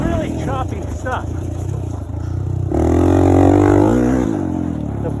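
A four-stroke Honda XR400 dirt bike ridden over choppy, dry dirt, its engine droning loud and close, then swelling into a stronger rev partway through, with a rider's voice over it.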